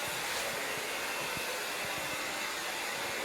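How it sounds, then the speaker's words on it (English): A hair dryer blows at high power while drying a woman's hair at a campsite, running off a Jackery Solar Generator 2000 Plus; the steady loud airy roar stays constant throughout. "here is Naomi blow drying her hair"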